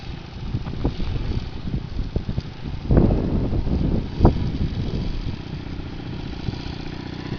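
A motorcycle ridden by a woman holds a steady throttle, its engine a continuous low rumble mixed with wind buffeting, swelling briefly partway through before settling back.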